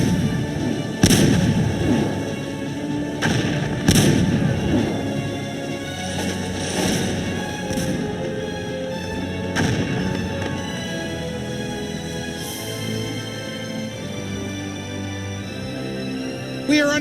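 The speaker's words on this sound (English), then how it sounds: "Enemy battery has opened fire." Repeated heavy booms and sharp blasts of artillery fire in the game Cossacks 2 over a dense, busy battle background, several loud hits spaced irregularly.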